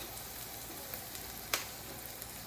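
Peppers, tomatoes and zucchini fry in a pan with a soft continuous sizzle. Small crackles come through it, and one sharper clack lands near the middle, with no speech.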